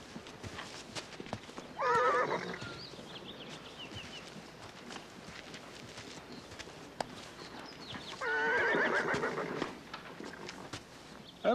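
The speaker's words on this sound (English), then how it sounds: "That is one dandy-looking cayuse." A horse gives two loud whinnies a few seconds apart, each a shaking, wavering neigh, over a steady background of hooves clip-clopping and faint shuffling at a fairground.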